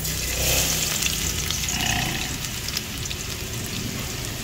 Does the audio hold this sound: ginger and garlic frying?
yes